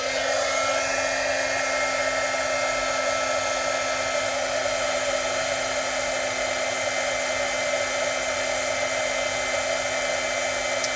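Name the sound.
heat tool melting embossing powder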